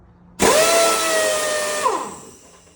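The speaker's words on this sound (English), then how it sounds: "This is just the tank, and here's the impact wrench." A pneumatic impact wrench fed by a 20 gallon air compressor with auxiliary tanks fires in a single loud, sustained whirring burst of about a second and a half, then quickly winds down to a faint hiss.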